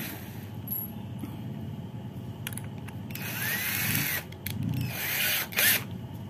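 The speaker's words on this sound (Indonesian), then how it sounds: "kita ambil busanya lalu kita bor." A power drill whirs steadily, then grinds louder as it bites into foam, with short pauses and revving bursts near the end.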